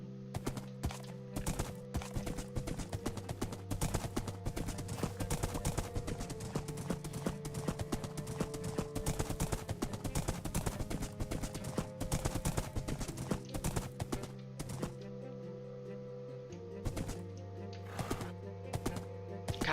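A horse in Minecraft clip-clops at a brisk, even trot, its regular hoofbeats running close and steady throughout over a low game backdrop.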